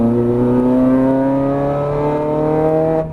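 A Ferrari 430 Scuderia's engine pulls hard under throttle, its loud, close note rising steadily in pitch for about three seconds before easing off at the end.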